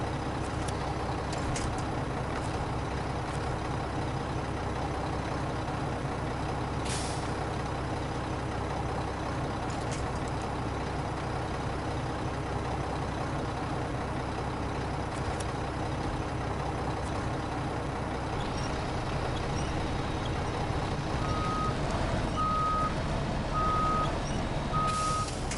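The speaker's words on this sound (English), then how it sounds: "look at what this fucking truck is driving in" A truck in the SnowRunner video game drives and manoeuvres through rough terrain, its engine rumbling steadily throughout, with a repeating reversing beeper sounding near the end.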